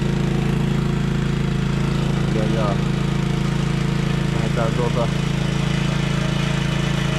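A chainsaw engine idles steadily throughout with a low, constant rumble, while someone speaks briefly over it.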